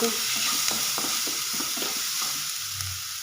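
Ground spices, coriander powder, black pepper and asafoetida, sizzling in a pan as they are stirred in for vegetable soup, a close, steady frying hiss with soft stirring scrapes and no talking.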